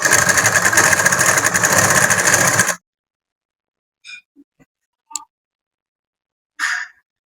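A sewing machine stitches semi Patiala pant fabric in a steady, loud mechanical whir for almost three seconds, then stops, leaving silence broken by a few faint clicks and brief handling noises.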